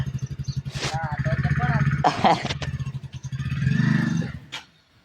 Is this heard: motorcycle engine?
yes